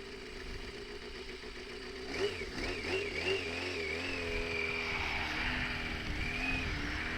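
Road traffic passes a waiting rider, with cars rolling by close in a steady, continuous engine drone that swells and revs, loud and unbroken, with no talk.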